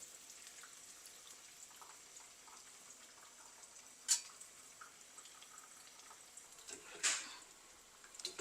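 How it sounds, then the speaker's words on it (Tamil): Eggplant and plantain frying in a pan for a Muslim-style kathirikkai kaliya curry give off a faint, steady sizzle, with two brief louder spits or crackles standing out midway and near the end. "இது ஃப்ரை ஆகி கொண்டு வருது."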